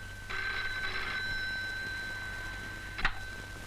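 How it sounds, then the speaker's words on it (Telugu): An indoor telephone bell rings in one long sustained trill, then falls silent before a brief second burst near the end, clear and fairly close. "నీకు ఫోను"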